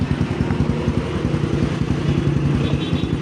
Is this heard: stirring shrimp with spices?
no